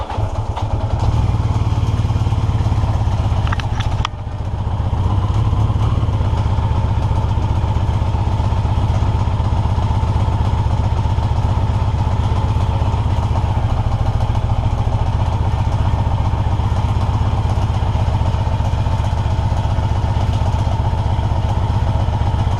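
A 1982 Yamaha XJ650 motorcycle engine fires up after priming, with a brief stumble early on, then settles into a steady, close, loud idle with mechanical clatter.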